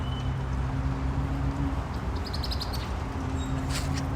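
Birds chirp faintly in a tree near a nest on a hot afternoon on a Toronto street, light scattered tweets over a steady low hum of traffic and city noise.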